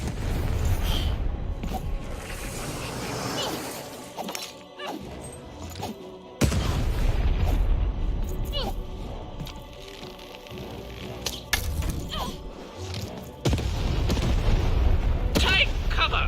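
Cannons fire in the Lost In Random video game, heavy booms landing repeatedly amid the battle's crashes and impacts, with a voice speaking between shots.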